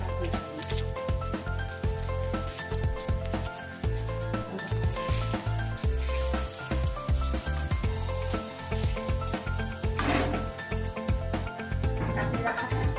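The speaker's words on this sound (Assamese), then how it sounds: "তেলত আমি তেজপাত খিলা, শুকান জলকীয়া এটা আৰু কেইটামান মিঠা কৰি" Bay leaves, a dried chili and a few other whole spices sizzle steadily in hot cooking oil, a loud continuous frying hiss with crackles and pops throughout.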